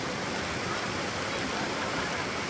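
Floodwater of the Beas river rushing through Akhara Bazar in Kullu, Himachal Pradesh, a loud, unbroken roar of churning water filling everything from start to finish.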